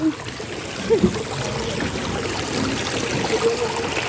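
Water flows strongly at a well on a rural walk, making a steady rushing, trickling wash throughout with a couple of small splashes near the start.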